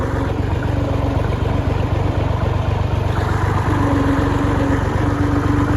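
A tractor engine runs steadily and loudly close by at a site where a house is being built, with a continuous low throbbing drone and no talking.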